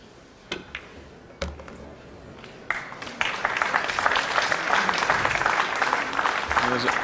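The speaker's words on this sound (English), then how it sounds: "There's almost grudging applause there" Scattered claps swell into sustained applause from a crowd at a 9-ball pool tournament match, starting with a few isolated claps and building to steady, moderately loud clapping.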